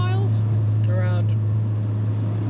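A stock Nissan 240SX with around 79,000 miles sits idling, its engine and exhaust holding a steady low rumble throughout, close and fairly loud, with brief voices over it.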